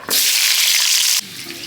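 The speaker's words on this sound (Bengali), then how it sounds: "মাছ ভাজার তেলে আলুটা ভেজে নেবো" Potato slices frying in oil previously used for frying pabda fish give a loud, close, steady sizzle that starts abruptly, holds for about a second, then drops to a quieter crackle.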